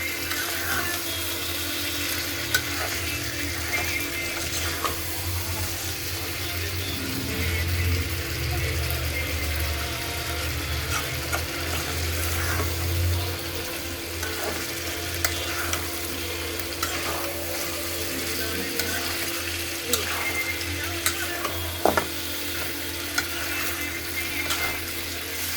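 Poppy seed paste being stir-fried in a pan, giving a steady, close frying hiss with scraping and stirring throughout, under a low background hum.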